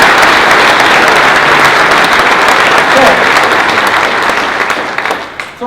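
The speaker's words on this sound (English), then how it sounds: "Round of applause." An audience at a St. Catharines State of the City address claps in a dense, loud, sustained round of applause that fades slightly near the end.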